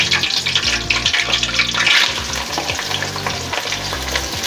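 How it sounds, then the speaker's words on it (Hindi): Onions fry in hot oil in a pan while being stirred for chicken tikka biryani, giving a loud, steady close sizzle with scraping stir strokes throughout. "इसके बाद हम प्याज डालेंगे"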